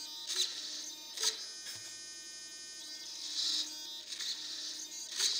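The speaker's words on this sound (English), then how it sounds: "the servo is getting a slower signal" A small steering servo on an ARTR RC4WD Desert Runner 4x4 scale truck whirs in several short, quiet bursts as it turns slowly, with a faint steady electrical hum between the movements.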